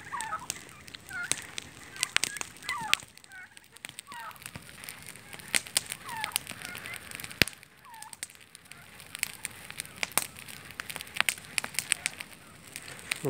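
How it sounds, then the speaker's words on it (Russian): Farmyard turkeys gobbling in repeated short, wavering calls at moderate distance, scattered across the stretch amid sharp clicks and light outdoor noise, with no talking. "эти индюки."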